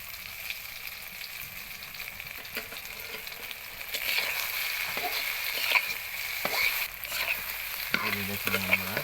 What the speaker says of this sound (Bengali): এখন একটু ভালো করে তেলে ভেজে নিতে হবে কাশ্মীরিগুলো